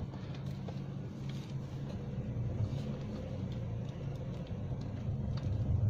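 A Suzuki Karimun Wagon R driving over a mix of good and rough road, with a steady low engine and road rumble throughout and faint rattling over the surface, getting slightly louder toward the end.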